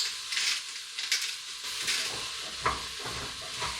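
Vegetables sautéing in a home kitchen pan for a beet curry, a steady soft sizzle with faint stirring scrapes and a few brief clinks, moderately quiet and close, with no talking.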